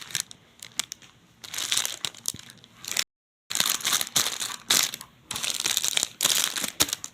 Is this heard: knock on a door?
no